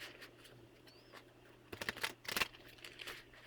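Quiet rustling, then a couple of brief bursts of papery riffling and snapping close by, like cards being shuffled by hand.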